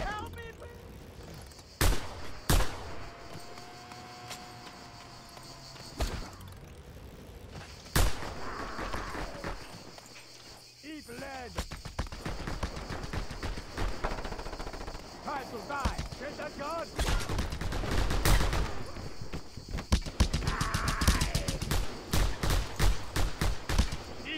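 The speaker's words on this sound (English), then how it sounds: "Why are you shooting all the time?" Video game gunfire in Just Cause 2: scattered single shots early, then dense automatic bursts building and growing louder toward the end, with some whooshing effects in between.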